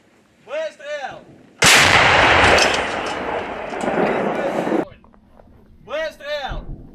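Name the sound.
artillery gun firing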